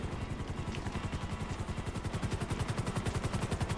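In Grand Theft Auto 5, rapid automatic gunfire rattles in a fast, even stream over the steady thumping beat of a helicopter's rotors, both close and loud, with no talking.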